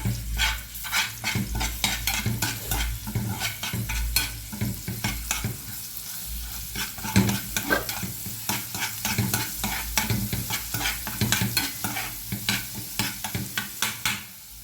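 Garlic fries in oil for Egyptian molokhia, a loud, close sizzle broken by rapid, repeated stirring scrapes and crackles throughout.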